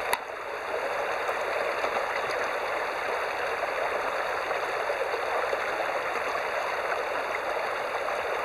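Bear Creek tributary, a small stream, flowing in a steady, close, even rush of water with light trickling detail throughout, alone with no voices.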